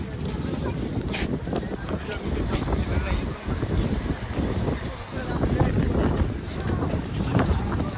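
Strong sea wind buffets the microphone in continuous gusty rumbles, with a wash of open-air noise throughout, at the seafront at Chaityabhoomi, Dadar, Mumbai.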